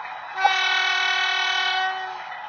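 Model train locomotive horn from a DCC sound decoder, one sustained multi-tone blast lasting under two seconds, close and clear, with a faint background hum and no talk.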